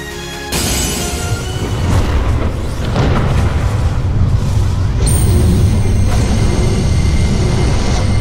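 A magical blast from Gandora the Dragon of Destruction in Yu-Gi-Oh! Duel Links erupts as a loud, sustained rumbling boom with a bright ringing shimmer layered on partway through, with no talking.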